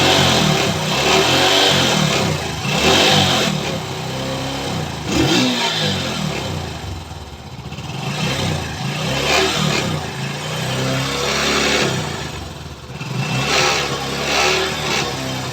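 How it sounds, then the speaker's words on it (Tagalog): Misfiring engine running rough with water in the carburetor fuel, its uneven, sputtering note rising and falling in surges close by, with no talk over it. "Pansinin nyo yung tunog na makina. Meron pa rin eh."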